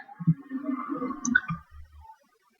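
A few soft computer mouse clicks sound while registering on a school system's sign-up page: a sharp click near the start, then a couple of quieter ticks, faint and close.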